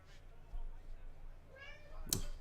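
A house cat meows once, a short close call late in the clip, over a quiet room background with faint distant sound.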